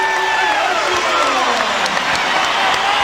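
A basketball arena crowd at an NBA game between the Trail Blazers and Houston Rockets in 1997 roars with sustained cheering and applause, loud and continuous, with a commentator talking over it.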